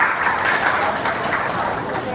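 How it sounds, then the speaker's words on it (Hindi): An audience claps loudly and steadily at a spiritual talk, a dense wash of applause mixed with crowd voices for about two seconds. "प्रभु जी के लिए ताली बजाएंगे जोर से"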